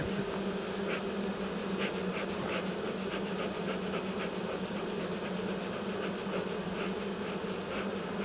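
A swarm of honey bees settled on the ground gives off a steady, dense buzzing drone, close and unbroken throughout, with no voices over it.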